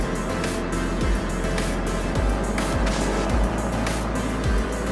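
A paramotor trike's engine drones steadily in flight over the Coshocton Hot Air Balloon Festival in Ohio, with the throttle held up while running with the wind, its loud continuous roar mixed with wind buffeting and periodic low thumps.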